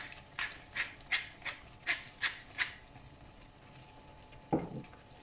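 Tomato sauce for pasta al pomodoro simmers in a pan, seasoned with salt and pepper. A quiet series of soft bubbling pops comes at a fairly steady rhythm, followed by a brief louder splutter near the end.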